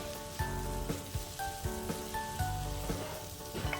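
Vegetables with spring onion sizzle and crackle steadily while frying in a pan, close and continuous, with soft stirring scrapes breaking in at regular intervals.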